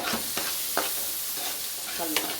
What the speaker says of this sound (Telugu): గరం మసాలాలు వేసుకున్నాక వేగినాక ఆనియన్స్, మిర్చి, గ్రీన్ చిల్లీ వేసుకోవాలి.